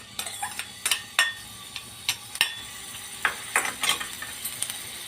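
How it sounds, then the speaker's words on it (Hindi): Small chopped onion frying in oil in a pan: steady soft sizzle close by, punctuated by clicking stirs and scrapes of a utensil against the pan. "इस प्याज को डालने के बाद आपने इसको अच्छे से भून लेना है।"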